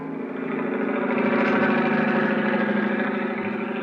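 Helicopter engine effect from a radio detective drama, a steady throbbing mechanical drone that holds loud and even throughout with no voices over it.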